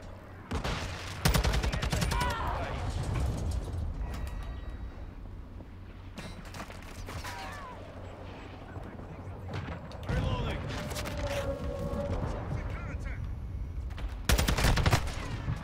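Machine gun fire from a Call of Duty match rattles in long sustained bursts, loud and near, with brief pauses and a fresh volley at the end over the background battle noise.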